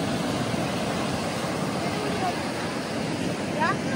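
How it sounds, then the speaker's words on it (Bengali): Strong wind blows across Puri beach with a steady, loud roar buffeting the microphone, and surf and faint voices sit beneath it. "খুব হাওয়া আছে।"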